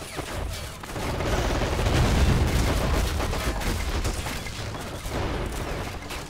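Sustained battlefield gunfire from Men of War Assault Squad 2 on the Falaise map, British versus German forces: a dense, continuous roar of overlapping shots and blasts that swells in the middle and stays loud throughout.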